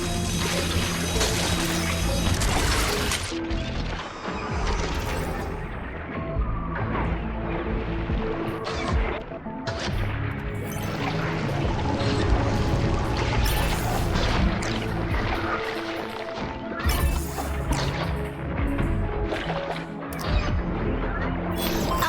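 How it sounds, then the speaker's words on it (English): Dense, continuous industrial clanking and whirring machinery in the Two Point Hospital video game, with repeated metallic knocks and bangs layered over a steady mechanical hum at a constant loud level throughout. "a heaving sack of scrap and the whirring clanks of efficient industry"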